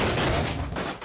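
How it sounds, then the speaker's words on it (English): A car in BeamNG.drive slamming into a guardrail in slow motion, one drawn-out, loud, heavy crunching impact with a booming low rumble that fills the whole moment. "Send it into the guardrail in slow-mo."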